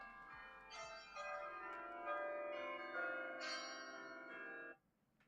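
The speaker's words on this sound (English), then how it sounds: "Did you guys hear my bells?" Bells ring in a rich, sustained peal with overlapping tones that swell and then cut off sharply, somewhat distant and faint, with no talking.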